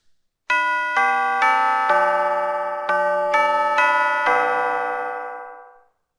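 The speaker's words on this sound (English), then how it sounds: "So we have all kinds of chimes here. Let's go ahead and play one." A bright electronic chime from a phone app plays a short melody of eight ringing notes in a row, the last one lingering and fading into silence.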